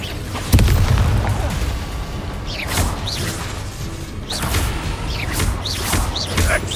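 Bombarda explosion spells in Hogwarts Legacy on PS5 during a spell-casting fight: several booming blasts with crackling debris, the sharpest one early on, followed by repeated bursts over a continuous rumble of combat.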